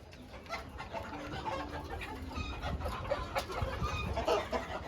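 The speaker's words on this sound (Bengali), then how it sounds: "প্রথমে শুরু করি বাংলাদেশের জাতীয় শৌখিন মুরগি ব্রাহ্মা দিয়ে।" Brahma chickens in light and buff colours cluck softly and intermittently among other poultry kept under one roof, with a faint rooster crow and farmyard background noise throughout.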